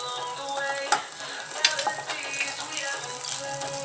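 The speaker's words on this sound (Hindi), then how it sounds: "अब मैं इसमें डालती हूँ हरी मिर्च।" Green chillies hitting hot oil with garlic in a pan, giving a steady bright sizzle and crackle with a couple of sharper pops from stirring, close and continuous without any voice.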